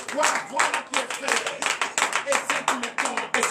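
Congregation at a morning prayer service in Benin clapping in praise, a dense run of close handclaps that swells and dips in waves for a few seconds, with voices mixed in.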